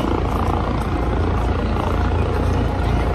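Private helicopter in Malaysia, its rotor and engine giving a loud, steady, close thudding roar that fills the whole stretch.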